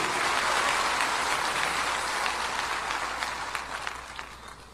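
A church congregation applauding steadily, a dense wash of clapping that gradually fades toward the end.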